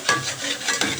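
Spoon stirring sizzling food in a frying pan as turmeric goes in, close and fairly loud, with a few scraping strokes over a steady fry.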